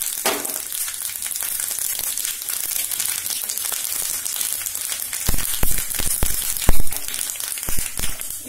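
Cumin, mustard seeds and a dry red chilli sizzle in a couple of teaspoons of hot white oil, a steady bright hiss running throughout, with sharper crackles and pops in the last few seconds.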